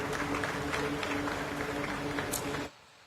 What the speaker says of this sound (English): Shall we do one more big round of applause?